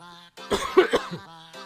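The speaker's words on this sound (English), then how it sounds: "I got a bit of a cough because I've been talking so much." A short cluster of throaty coughs, close and fairly loud, set against a steady tonal hum before and after.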